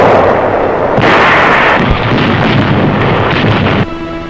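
Wartime RAF bombing of Mandalay in archival footage, with loud, rumbling blasts and heavy, distorted booms that roll continuously and then cut sharply near the end.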